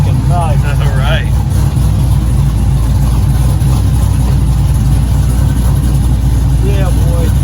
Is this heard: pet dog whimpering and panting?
no